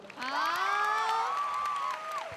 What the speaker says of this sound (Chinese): 再一个掌声。